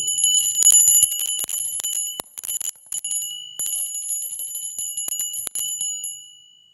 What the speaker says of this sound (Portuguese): essa coisinha que eu comprei, um sininho de mesa,